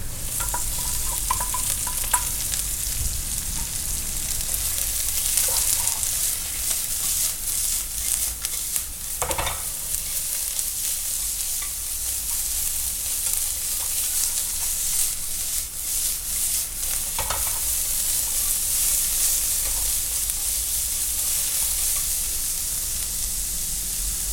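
Onion frying in a pan for a black truffle mushroom ramen, heard as a continuous bright hiss of oil at steady volume, with a couple of brief scraping stirs breaking through and no talking.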